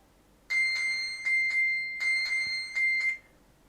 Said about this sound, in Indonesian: Jadi apabila smartphone kita hilang, kita bisa lebih mudah untuk nemuin karena pada saat diklik,